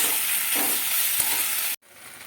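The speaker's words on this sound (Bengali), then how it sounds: "সেদ্ধ করে রাখা কচুর লতিটা দিয়ে দেবো, ভালো করে কষিয়ে নিই লতিটা দিয়ে মশলার সঙ্গে" Boiled taro stolons are stir-fried with spices in a pan, giving a steady close sizzle with scraping stirs, then cutting off abruptly to a quieter hiss near the end.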